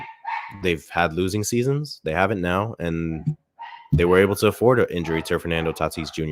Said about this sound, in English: I'm sorry if you hear the barking. It's pretty loud.